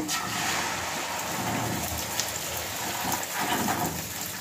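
Beaten egg poured into hot oil in a pan for an omelette, giving a loud, steady sizzling hiss that swells and surges throughout, with no voices.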